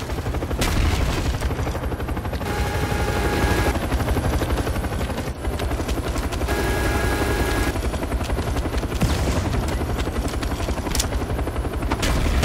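A Cobra attack helicopter arriving in Call of Duty Black Ops on Wii, its rotor thudding loudly and steadily throughout, with bursts of machine-gun fire cutting through the din.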